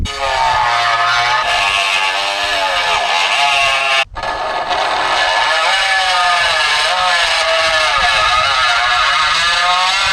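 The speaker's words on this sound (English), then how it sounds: "I got to grind those out" A power grinder whines loudly and continuously as pinholes are ground out of a metal part, with a brief break near the middle before grinding resumes.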